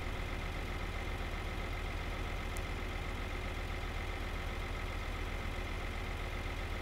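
Tractor engine in the Farming Simulator 2013 demo, a steady low mechanical drone that holds evenly throughout with no voices over it.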